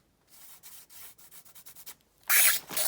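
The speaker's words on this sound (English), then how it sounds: "sorry about that horrible noise with the book squeaking on the desk there" A series of short squeaky rubs as a book scrapes across a desk in a quick uneven rhythm, ending in a louder, longer grinding squeal.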